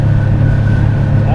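A boat engine drones steadily while cruising at 4,500 RPM, a loud continuous hum with water rush. A person talks over it.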